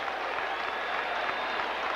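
A large baseball stadium crowd at Fenway Park applauds and cheers in a steady roar during a 2003 playoff game, dense and distant-sounding, with no pause.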